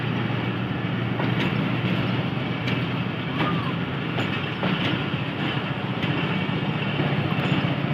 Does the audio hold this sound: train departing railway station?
yes